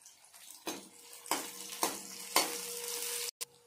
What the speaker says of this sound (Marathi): आपल्याला हा कांदा भाजताना मीडियम गॅस ठेवूनच कांदा भाजायचा आहे